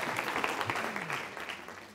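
Audience applauding a magician's volunteer at a live show, a short, lively round of clapping with a voice briefly audible underneath.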